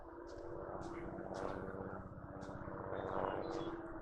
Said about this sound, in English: there is a helicopter flying right somewhere right there